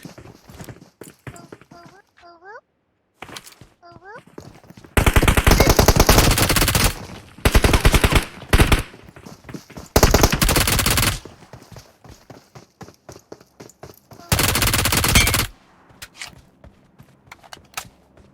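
PUBG Mobile weapon fire comes in several loud sustained bursts of rapid gunfire separated by quieter gaps that hold footsteps and small game sounds, with speech heard at moments between the bursts.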